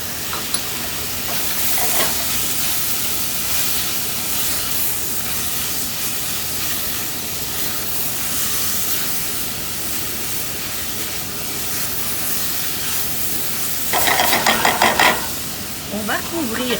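Chopped ginger and garlic sizzle and hiss steadily in a hot pan with cooking vegetables, a constant frying noise that swells briefly louder near the end.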